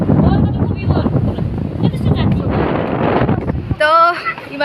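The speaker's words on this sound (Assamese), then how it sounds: "ইমান ধুনীয়া বতাহ" A breeze on the top floor of a building blows hard across the microphone, a close, steady buffeting rush, with a brief voice near the end.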